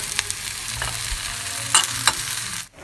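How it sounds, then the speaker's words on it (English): Chicken sausages fry in ghee in a pan with a steady low sizzle, broken by a few sharp spatter pops and stirring scrapes near the end, then the sound cuts off abruptly. "Put ghee in a pan and fry the chicken sausages."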